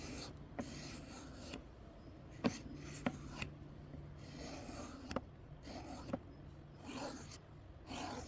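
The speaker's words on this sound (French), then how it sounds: "On va passer au cuir façon rouleau de scotch." A knife blade is stropped on leather wrapped like a roll of tape, giving soft rhythmic rasping strokes with a few sharper ticks, fairly quiet and close with no talking.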